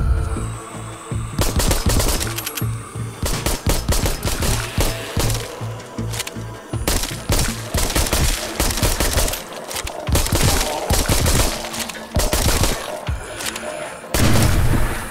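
Rapid gunfire at zombies in the Arizona Sunshine VR video game: loud, dense volleys of sharp shots in quick bursts throughout, with brief gaps and booming impacts.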